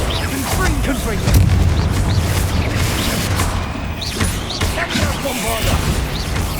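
Confringo fire spell bursting in Hogwarts Legacy, a dense rumbling blast that swells early and keeps booming through a busy game scene, with soft voices and effects layered underneath.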